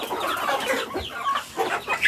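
Backyard chickens cluck and squabble over food, a busy close-up flurry of overlapping clucks and agitated calls, continuous and fairly loud with no talking.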